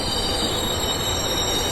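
A passenger train rolls steadily as a sound effect in a Bengali audio story, with a continuous loud rumble of wheels and carriages and a faint squeal, no voices over it.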